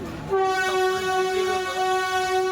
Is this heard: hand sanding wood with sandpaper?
no